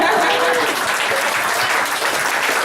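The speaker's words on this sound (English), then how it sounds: "Applause for the local musician" Audience applause for a local musician at a community launch event, a dense steady wash of clapping held at even loudness from start to finish.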